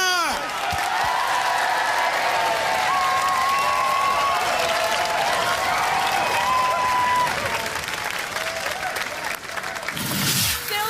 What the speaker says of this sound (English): Ladies and gentlemen, round of applause for Splinter!